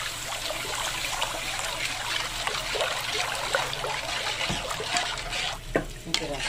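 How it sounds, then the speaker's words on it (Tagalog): Water is poured into a simmering sauce for lumpiang sariwa, making a steady, continuous splashing trickle over the bubbling pot for several seconds, with a few clinks and a brief louder pour near the end. "So, maglalagay tayo dyan ng tubig."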